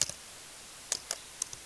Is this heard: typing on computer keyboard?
yes